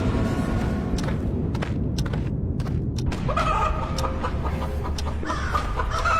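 Busy, continuous clucking from a flock of chickens fills the scene, steady and fairly loud, with scattered thumps and no talking.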